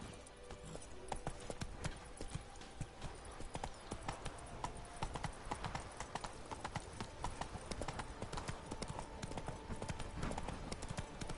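Horse hooves gallop steadily in The Witcher 3, a fast continuous clip-clop that runs the whole stretch, with faint game ambience and a voice briefly under it.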